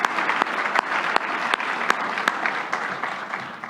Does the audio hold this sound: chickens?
no